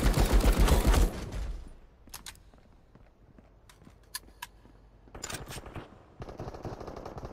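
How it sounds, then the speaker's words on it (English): Bursts of automatic gunfire in the multiplayer shooter Marauders, loud at the start, then sparse sharp shots and short volleys over quieter game ambience. "Oh, they're firing at the security."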